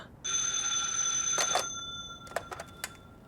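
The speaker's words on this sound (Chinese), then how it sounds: "赵敏，电话。" A telephone rings indoors, a loud electronic ring of about two seconds followed by a few short broken rings, with no voices.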